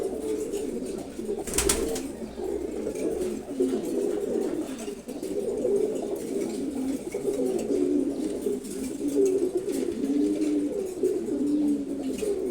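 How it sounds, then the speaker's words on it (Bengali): A pair of silver gola pigeons coo nearby in soft, rolling, continuous murmurs, with one brief louder noise near the start and no talking. "সিলভার গোড়া কবুতর জোড়া মশাল্লা খুবই সুন্দর এক জোড়া কবুতর"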